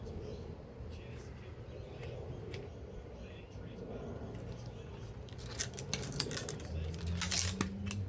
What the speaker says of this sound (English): just going to cut this bit of cable off here.